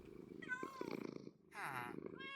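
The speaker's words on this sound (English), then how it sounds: "Oh, it's purring." A cat purrs in the video game Minecraft, a soft, buzzing rumble heard briefly and quietly as a person talks over it.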